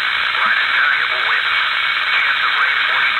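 Interference picked up on an SDR USB receiver: steady, loud hissing radio noise with faint warbling tones running through it, continuous for the whole stretch.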